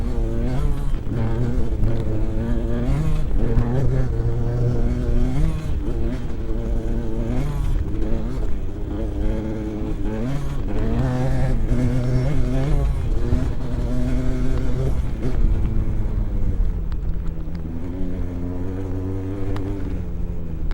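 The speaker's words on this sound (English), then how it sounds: "These riders are racing through rough stutter bumps to the barn." Motocross bikes race over rough stutter bumps toward a barn across terraced fields, engines droning and revving loud and continuous with shifting pitch as several machines pass close by.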